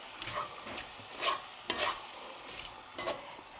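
Vegetables with a vegetable cube are stirred in a pot, giving soft scraping strokes and faint sizzling in quiet, irregular bursts up close, with no talk.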